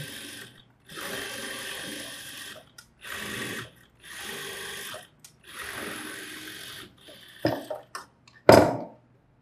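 Sewing machine stitching along the edge of an umbrella churidar lining, running in several short bursts separated by pauses, close and steady, then a few sharper clicks and a louder clunk near the end.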